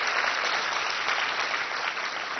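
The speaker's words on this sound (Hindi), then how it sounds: "ताली बजाओ ना।" Indoor audience at a spiritual gathering applauding steadily and loudly, a dense, continuous clapping that fills the whole stretch with no break.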